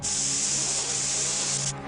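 A cartoon aerosol can of "Smog in a Can" lets out one steady, loud hiss that runs unbroken for almost two seconds and then cuts off abruptly, with nobody talking over it.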